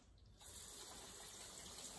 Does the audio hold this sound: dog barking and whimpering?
no